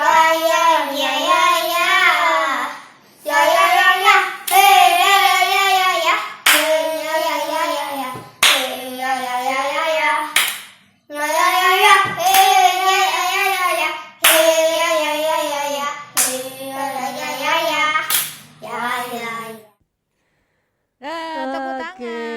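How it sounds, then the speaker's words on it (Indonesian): Children clapping their hands at a junior church service for kids, sharp rhythmic claps landing at regular intervals between bursts of loud singing voices. "Tepuk tangan."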